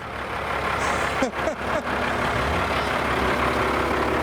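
A Toyota Supra fitted with a turbocharged diesel tank engine runs with a loud, steady low rumble up close. A few brief hissing and chirping bursts break through near the start.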